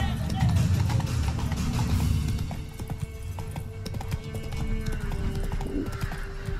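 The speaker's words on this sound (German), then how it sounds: "Dann reiten wir jetzt noch einmal zurück." Horse hooves clip-clop steadily while riding in The Witcher 3: Wild Hunt, a close rhythmic trot with an occasional whinny, under speech and game background sound.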